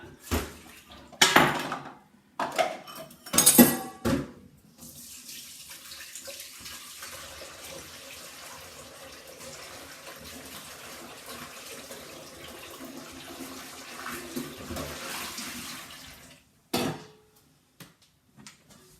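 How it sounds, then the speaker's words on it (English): Hot tap water runs steadily into a bowl being washed out in a kitchen sink during bread-dough making, with a few louder splashes and clatters at the start and a brief burst near the end. "I'm just going to wash out my bowl with nice hot water."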